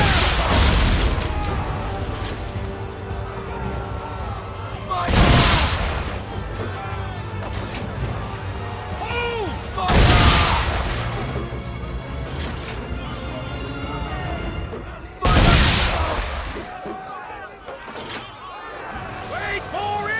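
Cannon and swivel guns fire during a naval fight against an English frigate in Assassin's Creed III: four deep, loud booms spaced roughly five seconds apart over ship noise and shouted voices.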